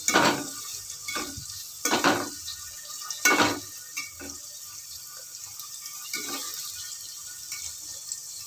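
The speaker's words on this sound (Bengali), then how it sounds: "এই দেখো পেঁয়াজ ভাজা হচ্ছে" Intermittent sizzling bursts of onions frying in a pan, with scraping stirs at irregular intervals, close by and moderately loud.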